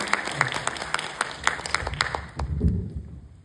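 Applause for a director at a film festival master class in Bucheon, with distinct claps ringing out in a quick, steady rhythm before fading away under a low rumble at the end.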